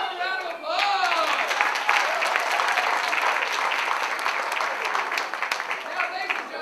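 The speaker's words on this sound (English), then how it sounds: "Round of applause." Applause and some cheering from an improv comedy show audience swell up after a brief spoken line and continue as dense, sustained clapping through to the end.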